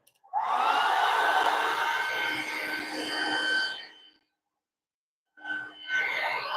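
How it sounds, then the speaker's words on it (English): A heat gun blows on candle wax during candle making, a loud airy whirring rush lasting about four seconds, cutting off, then starting again briefly, with no talk over it. "I'm about to use the heat gun."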